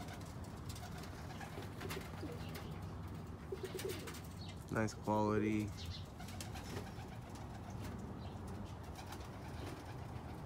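Roller pigeons coo in a short burst of throaty, rolling calls midway through, amid softer bird chirps and someone speaking briefly nearby.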